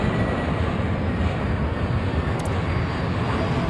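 Airplane taking off in the airport video game Airport Madness, a steady broadband jet roar that holds at a constant level for the whole stretch, with no talk over it.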